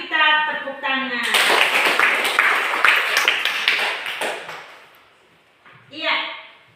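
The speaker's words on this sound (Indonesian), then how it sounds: "mari kita tepuk tangan" Audience clapping hands in a classroom lesson, a burst of close, crisp claps with a brief cheer, beginning after a spoken voice and tapering off, followed by more speech.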